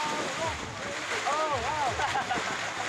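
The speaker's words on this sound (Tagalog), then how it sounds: "Sobrang malakas ang hangin." Strong wind gusts buffet a microphone at sea during a traditional paraw sailboat race, a steady roaring rush with broad noise, water wash and splashes, while muffled voices talk faintly underneath.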